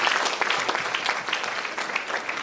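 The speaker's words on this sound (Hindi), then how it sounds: "So आप अपने लिए एक बार बढ़िया ताली बजा सकते हैं" An audience at a motivational talk at Apollo International Hospital in Ahmedabad claps steadily, a dense, sustained wash of applause with no pauses.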